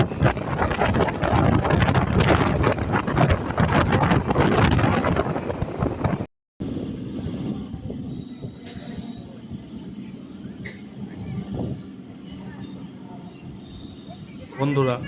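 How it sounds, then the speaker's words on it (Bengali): A train running after leaving Naihati station, heard from inside as a loud, dense rumble with wind buffeting that cuts off, then continues as a quieter rolling hum with faint squeaks and clacks. "ট্রেন এখন নৈহাটি স্টেশন ছেড়ে বেরিয়ে যাচ্ছে"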